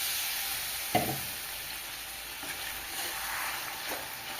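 Chicken pieces sizzle steadily in a pan with a soft continuous frying hiss, a sharp splash and burst of sizzle marking water being added, followed by a few lighter clatters of stirring.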